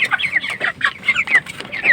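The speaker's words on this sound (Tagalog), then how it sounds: "Pakain ulit tayo ng ating mga magang manok" Chickens clucking steadily, several birds close by making a busy stream of short, rising clucks and squawks, with no talking.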